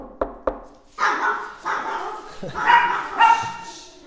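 Dogs barking close and loud: two sharp knocks, then a run of urgent barks and yips that keeps building over about four seconds.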